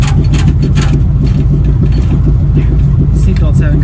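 A 1979 Pontiac Firebird Trans Am engine idles with a steady low rumble and rhythmic pulsing, loud and close, while a voice talks over it.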